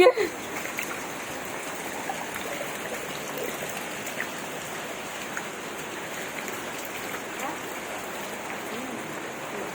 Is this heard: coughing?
no